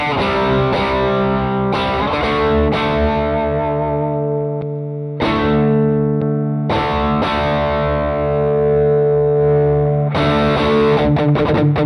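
An electric guitar plays through a TC Electronic Zeus Drive overdrive pedal, a Klon clone, giving sustained driven chords in several phrases separated by short pauses, with no talking.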